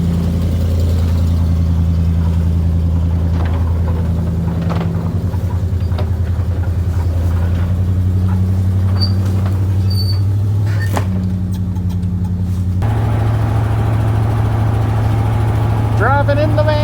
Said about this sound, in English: Driving in the van. It's working. Got oil pressure, it's charging.